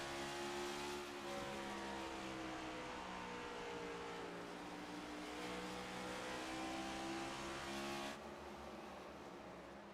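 Next Gen Cup race cars lapping the Bristol oval in a sim racing game, a steady faint engine whine with rising and falling pitches as several cars drone past together.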